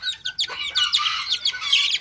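A young rooster chick with a well-grown comb gives a quick run of high, chirpy clucks, close and fairly loud, repeating in short bursts with no one talking.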